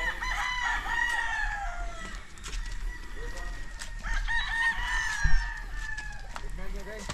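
Several chickens cluck and squawk nearby while a rooster crows, with people talking in the background throughout.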